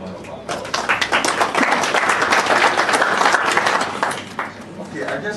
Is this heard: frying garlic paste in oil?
no